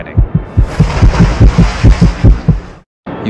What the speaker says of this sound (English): Your heart pounding,